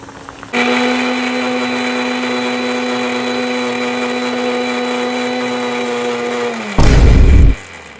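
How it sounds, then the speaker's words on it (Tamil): An electric blender grinds boiled tomatoes into puree, a loud, steady motor whine that starts abruptly and holds for several seconds, then winds down into a brief rumbling clatter. "பாயில் பண்ணி ஆஃப் பண்ணி அதை அரைக்கணும்."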